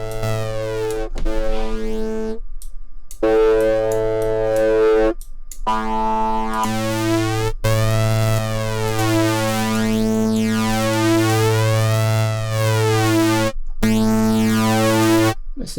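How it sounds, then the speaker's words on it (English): Blue III VST software synthesizer played through a distortion effect: sustained buzzy harmonic chords with sweeping filter motion, loud and continuous, broken by a few short silent gaps between phrases. "let's put some distortion"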